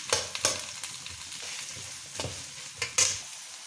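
Sliced onions and green chillies stirred in a hot pan for chicken curry, a low sizzle punctuated by several distinct scraping strokes at irregular intervals, no talking.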